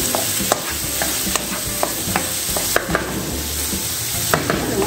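Green beans stirred in a sizzling onion and garlic dressing in a pan, with close scraping strokes at an uneven rhythm over a constant frying hiss.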